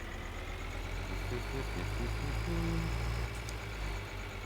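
A tractor engine in Farming Simulator 2013 idles with a low, even rumble, fairly quiet and unchanging for the whole stretch.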